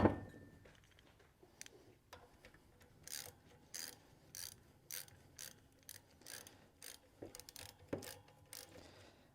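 Tightening bolts while rebuilding a rolling cultivator with new bearings: a series of short metallic ratcheting clicks and clunks in bursts, fairly close and moderately quiet, with no talking.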